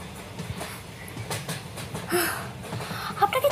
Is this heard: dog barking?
no